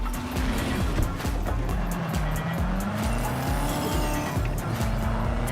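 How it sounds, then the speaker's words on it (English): Traffic in Cyberpunk 2077 rushes close past while driving through Night City, a loud continuous roar of engines with rising and falling pitch, repeated pass-bys and occasional tire squeal. "I feel like the cars are coming much closer now"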